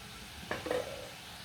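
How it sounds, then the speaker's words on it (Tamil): Bitter gourd frying in oil gives a faint, low sizzle, broken by one brief scrape of a spoon stirring the pan. "இப்படி எண்ணெயில் ஃப்ரை பண்ணும்போது பாவக்காய் நல்ல டேஸ்ட்டாக இருக்கும் இது வேகட்டும் எண்ணெயில்"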